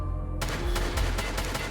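Gunfire in Escape From Tarkov as a player panic-shoots a wall: a burst of loud, close shots in quick succession, each crack blending into a dense, booming roll.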